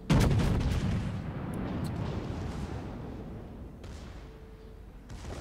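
Heavy booming naval gunfire from a warship in World of Warships rolls out in a burst of deep blasts, then fades into a lingering rumble with a few faint distant reports.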